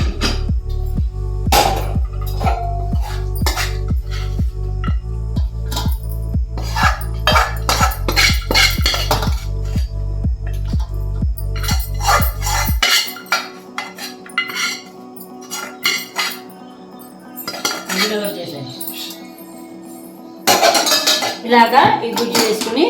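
Cooked rice being mixed with tamarind pulp in a metal basin for pulihora, with loud repeated clanks and scraping of a utensil against the basin, over a steady low hum for the first half, then sparser clatter.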